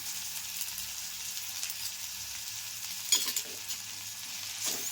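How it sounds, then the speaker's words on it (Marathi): Green peas with ginger garlic paste and garam masala frying in oil for a cabbage dish, a steady hissing sizzle close by with a couple of brief stirring scrapes, no voices. "सगळं जरा छान तेलात फ्राय करा"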